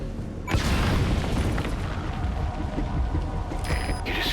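A full-blown explosion in the stealth action game Metal Gear Solid V: The Phantom Pain, a sudden loud boom followed by a sustained roaring, rumbling blast with debris and crackle, then brief sharper bursts near the end.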